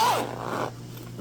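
Zipper on a handmade sewn wet bag being pulled and handled, a single quick close zipping rasp lasting under a second, then fading to quiet.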